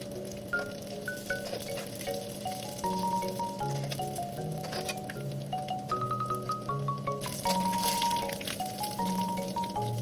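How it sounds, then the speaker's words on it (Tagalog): Potato rolls fry in hot oil in a pan, giving a continuous close crackling sizzle with occasional pops. A melodic music track plays along the whole time. "Sa isang kawali, magpainit ng mantika at isa-isa na natin yung prito yung ginawa nating potato roll."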